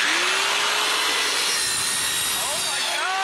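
A DualTools CS450 dual saw cuts through copper pipe with a loud, steady high-pitched whine and grinding buzz that shifts slightly in pitch near the end.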